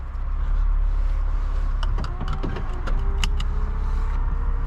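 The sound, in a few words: Infiniti Q60 IPL convertible top closing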